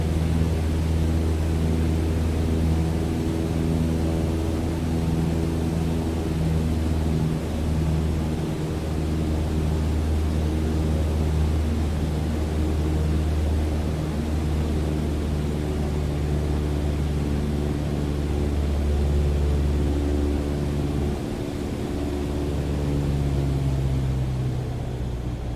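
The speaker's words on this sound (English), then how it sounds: "You can hear the wind speed fall off in the audio as the velocity decreases." Steady airflow and engine drone in a flight simulator aircraft during a low approach, a sustained hum with layered tones holding throughout and easing slightly toward the end as the plane slows.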